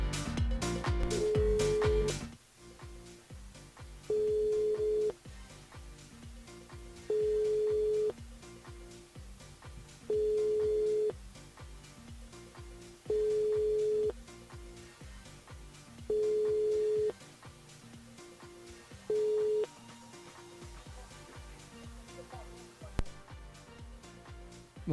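A telephone call rings through toward an answering machine, starting with a quick burst of dial tones, then about seven evenly spaced ring tones, fairly quiet over a faint background.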